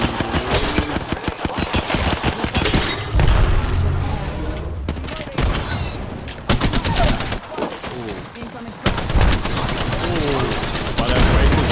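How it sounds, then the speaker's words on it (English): Rapid bursts of automatic gunfire from a teammate in the Apex Legends battle royale shooter, loud and repeated with short pauses between volleys, mixed with explosions and game effects while players talk over it. "I was watching him shoot just then."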